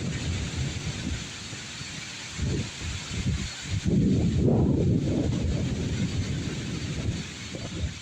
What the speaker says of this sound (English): We ain't had a storm this strong in quite some time.